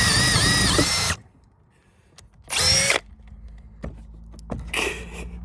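Metabo HPT cordless drill with a 9/16 bit boring into treated lumber, three loud whining bursts separated by pauses, the last one lower and grinding, close up with faint knocks between.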